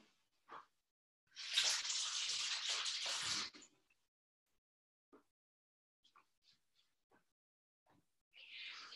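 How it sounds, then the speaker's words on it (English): Tap water runs steadily at a sink for about two seconds as hands are washed, close and fairly loud, followed by quiet drips and small handling sounds before the flow starts again. "and wash your hands."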